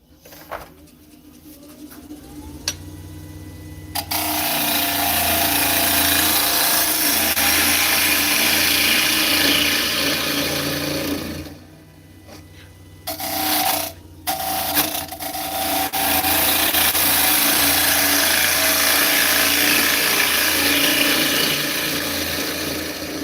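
An elm bowl spins on a wood lathe while a tool cuts into it, a loud continuous abrasive whir that drops away briefly near the middle, stutters, then resumes at full strength with no voices.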